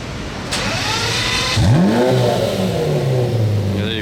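Lamborghini Reventon Roadster engine revs loudly and climbs as the car pulls away, with a rising, sweeping tone that settles into a steady drone nearby.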